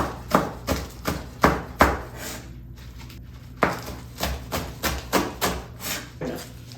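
Knife slicing green onions on a cutting board, a close series of crisp rhythmic chops in two bursts separated by a short pause, steady and evenly spaced, without talk.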